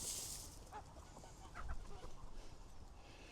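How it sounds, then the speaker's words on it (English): Backyard pen of hens and one rooster clucking softly while pecking at scratch grain, with scattered low clucks and brief calls at close range under steady wind. "One rooster in there and the rest of them are all hens."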